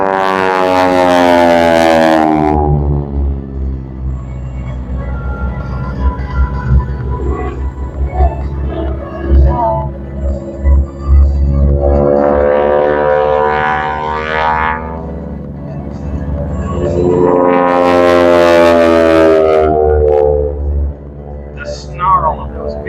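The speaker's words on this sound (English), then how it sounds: "Snarl of those big R1340 plus radial engines" Big Pratt & Whitney R1340 radial aircraft engines snarl loudly at an air show, a rough harmonic drone that swells and fades as the planes pass, with two strong surges near the start and end under a continuous roar.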